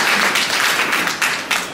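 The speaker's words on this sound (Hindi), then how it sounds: "बच्चों के लिए ताली बजाओ" Audience clapping for children at a Hindi motivational talk, a dense steady patter of many hands with a couple of louder swells, fairly close and without speech over it.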